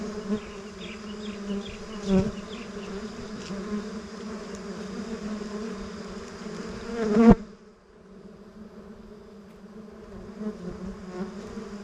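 Bees buzzing around a hive during a honey harvest, a steady close swarm drone with a louder burst near seven seconds, then a quieter, thinner hum continuing to the end.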